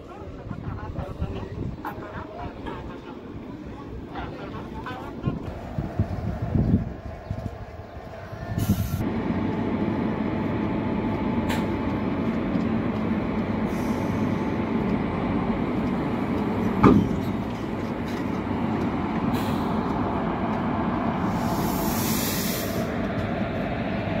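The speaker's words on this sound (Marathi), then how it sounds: "आपलं लोकोमोटिव्ह जे आहे ते मागच्या साईडने काढून आता पुढच्या साईडला लावण्यात येत आहे" A locomotive on the 11414 Nizamabad Express is uncoupled from the rear and run around to the front, giving a steady rail rumble with scattered clanks and bursts that grows heavier partway through, under faint background voices.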